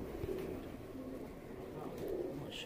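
Pigeons of the Mian Nazir breed coo softly in a low, steady murmur, a faint continuous burble with no talk over it.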